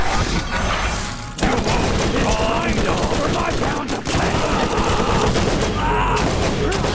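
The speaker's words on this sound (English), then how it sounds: "it's a burst weapon" Burst-fire weapon shooting in the video game Borderlands Remastered, dense rapid gunfire bursts filling nearly the whole stretch with a brief gap early on and a dip near the middle, loud and continuous.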